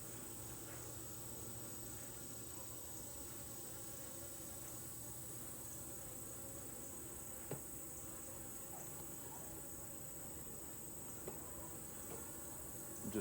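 Honeybees buzzing around an open top-bar beehive, a dense, continuous hum of many insects with occasional nearer passes, fairly faint and steady.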